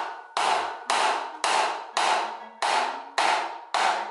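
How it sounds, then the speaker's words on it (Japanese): A plastic hammer strikes the crank spindle of a Cannondale bicycle with a PF30A bottom bracket, seven sharp, loud blows landing at a steady rhythm about half a second apart, each leaving a brief ringing decay. "プラスチックハンマーでスピンドルを叩きます。"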